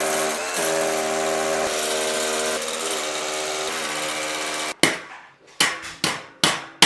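Hammer blows during plasterboard and wood fibre insulation work: about five sharp, loud strikes in quick succession, following a steady droning hum.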